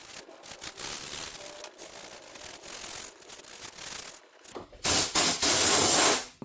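180 grit sandpaper lightly scuffs a body filler area on a BMW G31 body panel with soft, irregular rubbing strokes. A louder burst of scraping comes near the end, and no one speaks.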